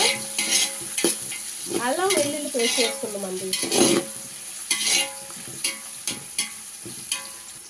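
Biryani masala frying in a pot for chicken biryani, with scraping stirs and bursts of sizzle in an irregular rhythm, close and moderately loud; a brief rising tonal squeal partway through.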